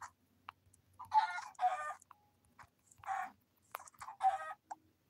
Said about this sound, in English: I'm killing this fucking chicken.